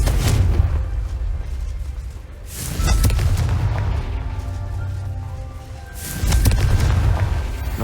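Heavy booming blasts from the Confringo fire spell in Hogwarts Legacy, three loud rumbling explosions spaced a few seconds apart with low roaring tails between them.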